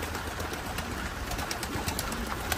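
Pigeons cooing and fluttering close by, a dense, continuous murmur of many birds with soft repeated calls.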